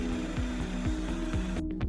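Hand-tapping two M1.4 threads into a thin metal stylus rod in a metal workshop: steady, rhythmic ratcheting clicks from the tap wrench repeat about every half second, close and fairly quiet, with no talking.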